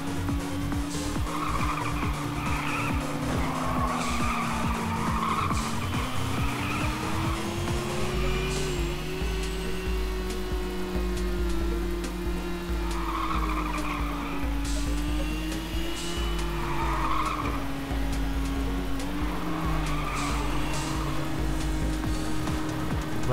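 Tyres skid and squeal continuously as cars drift through corners in the top-down racing video game Little Racers Street, with steady engine drone beneath and repeated squealing bursts throughout.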